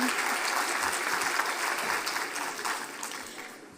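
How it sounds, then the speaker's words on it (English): A conference audience in a large hall gives sustained, dense applause that stays steady throughout, with faint voices underneath. "another round of applause for Professor Davidovich."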